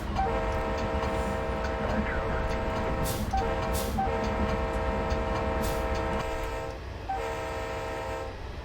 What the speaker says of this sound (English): I freaking love that horn.